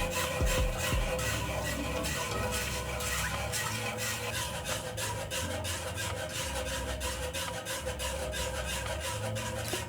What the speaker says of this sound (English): you're going to whisk this until the sugar is all dissolved